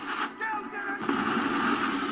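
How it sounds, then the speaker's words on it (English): Rapid, sustained bursts of loud explosions from a roller coaster reaction review, running continuously with dense crackling pops that build after the first second. "Lots of explosions."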